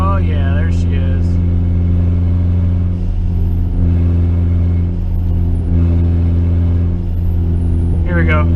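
A turbocharged Honda CR-V wagon cruises with its exhaust E-cutout open, giving a steady, loud, low engine drone that holds throughout, with someone talking over it.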